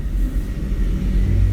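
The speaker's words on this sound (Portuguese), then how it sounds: "parece que está passando um caminhão, o caminhão do lixo ali fora" A large truck, apparently a garbage truck, rumbles past outdoors with a steady low engine drone that holds throughout, moderately loud with no talk over it.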